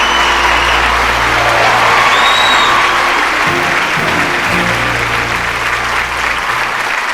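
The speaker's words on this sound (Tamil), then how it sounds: "நம்ம எல்லாருக்கும் ரொம்ப ரொம்ப பிடித்த சீமான் அண்ணன் அவர்களை ஒரு மிகப்பெரிய கைத்தட்டலோட இந்த மேடையில் வெல்கம் பண்ணுறோம்." A large audience at a stage event gives sustained, loud applause with some cheering to welcome Seeman onto the stage, a dense steady roar of clapping for the whole stretch.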